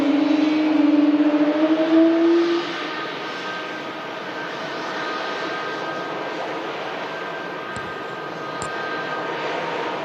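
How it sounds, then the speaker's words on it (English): An Air France airliner's engines at Manchester Airport give a steady, loud roar with a humming tonal whine. The sound is strongest in the first couple of seconds, then settles into a constant drone. "the Air France makes a noise"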